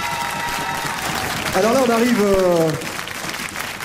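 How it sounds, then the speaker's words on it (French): Audience at a Philharmonie de Linselles concert applauding, steady clapping throughout with someone speaking over it briefly. "Vous pouvez les applaudir encore une fois, s'il vous plaît."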